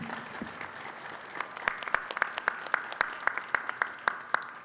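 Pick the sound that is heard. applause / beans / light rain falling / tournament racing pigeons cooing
applause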